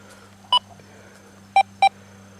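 A metal detector swept quickly over ground gives short electronic beeps, one isolated tone followed by a quick pair, close and clear against a quiet hum.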